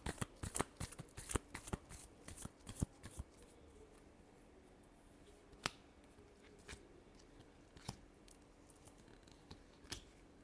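Tarot cards being shuffled by hand during a reading, a run of crisp riffling snaps and taps, dense at first and then spaced out into scattered single flicks, close and fairly quiet with no voices.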